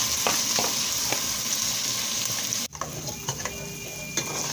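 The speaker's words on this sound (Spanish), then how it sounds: "Seguimos meneando nuestro arroz para que no se nos vaya a quemar" Rice toasts and sizzles in a frying pan while being stirred, a steady close sizzle broken by a sharp scrape or clank midway and lighter stirring taps after.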